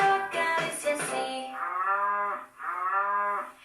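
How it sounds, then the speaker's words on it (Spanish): A cow moos twice in a children's song, each low, drawn-out call rising and falling clearly after a brief sung phrase. "Quieren oír, la vaca dice así."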